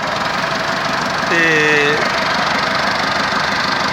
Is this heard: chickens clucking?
no